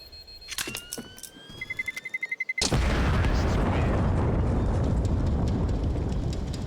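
A planted bomb detonates on the Inferno map in a professional Counter-Strike match: after a run of quick beeps, a sudden loud blast erupts and rolls on as a sustained roaring rumble.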